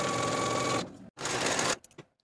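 A sewing machine sews sleeve seams on a dress in two quick bursts close by, with a brief pause between them and a soft clatter as it stops.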